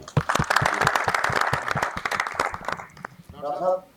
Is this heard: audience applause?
yes